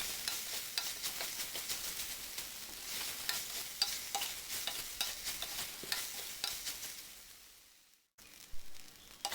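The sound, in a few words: meal maker masala being sautéed and fried in a pan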